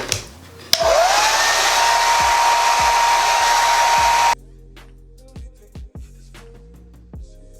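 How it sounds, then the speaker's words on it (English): A hair dryer with a diffuser switches on with a click and blows with a steady, loud whoosh for a few seconds, then cuts off, leaving scattered handling noises. "I'm gonna stick the dryer in my hair and kind of shake it around"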